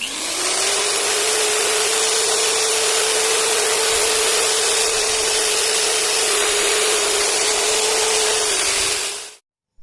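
A steady, continuous high-pitched whirring of a reamer cutting a metal engine part, loud and close, running evenly for nearly ten seconds before stopping abruptly.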